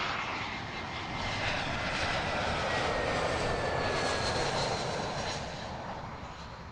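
An Air India airliner near Heathrow Airport makes a loud, steady engine roar that swells and then slowly fades as it passes, with no voices.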